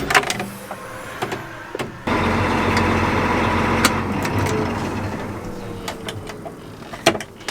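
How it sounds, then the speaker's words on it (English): A farm tractor pulls away and drives steadily, its engine a continuous near rumble that jumps in loudness about two seconds in and holds, with a few clunks and knocks over it. "I'm gonna move this tractor out of the way"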